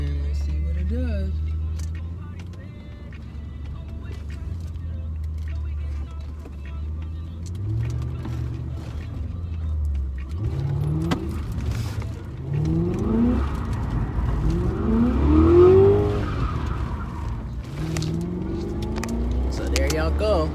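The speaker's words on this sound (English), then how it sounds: "I did my one donut for y'all." A car in low gear swings through a U-turn into a single donut, its engine droning low and then rising in pitch as it revs. Someone talks over the engine noise.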